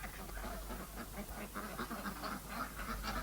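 Farmyard ducks quack in a steady, overlapping chatter of several birds, moderately close, with no talk over the calls.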